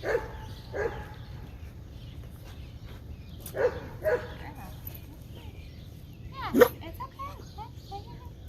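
A female dog barks during an obedience training session with workers nearby, giving a few short, sharp barks spread out over time amid a person speaking.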